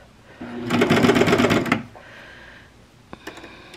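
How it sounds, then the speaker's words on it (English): A sewing machine topstitching with red or blue thread runs in a fast, steady whirring burst for about a second, then stops, followed by faint clicks and handling noises. "either use red or blue thread to top stitch it"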